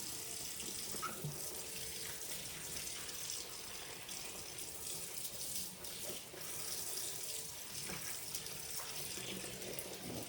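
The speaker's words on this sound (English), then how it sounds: "Get all that dirt. I'll wash them about 4 times." Steady running tap water pours continuously over collard greens being washed in a sink, a constant close splashing rush with no talking.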